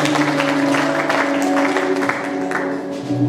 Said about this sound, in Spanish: Un aplauso a mi hermano José.